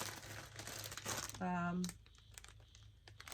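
A plastic Mylar bag crinkling and rustling close by, with a brief louder tonal squeak in the middle; no talking.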